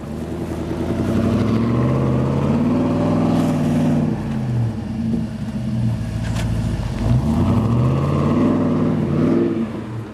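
A Land Rover Discovery I engine revs hard while stuck off-road in snow, a loud, close mid-range drone that swells and falls repeatedly with throttle changes.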